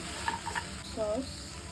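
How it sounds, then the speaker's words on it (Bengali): Salad ingredients being stirred and mixed by hand for a cashew nut salad, a short run of soft scraping and clinking in a bowl, close and fairly quiet. "মিক্স করে নেব"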